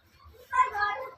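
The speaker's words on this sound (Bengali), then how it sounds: "মেও মেও শুরু করে দিছে।" A young kitten, only a few days old, lets out soft, close meows that rise after a quiet start and repeat in a short run.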